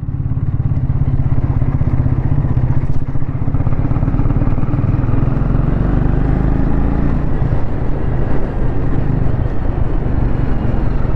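A motorcycle with wide handlebars engine droning steadily and loudly throughout a ride, the close engine note continuous and mixed with wind rush, with no talking.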